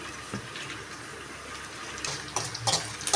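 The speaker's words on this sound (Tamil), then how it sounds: "கட் பண்ணி நல்லா கழுவணும்" Small pieces of cut dried fish rinsed by hand under a running kitchen tap. Water flows steadily up close, then splashes and sloshes more loudly toward the end.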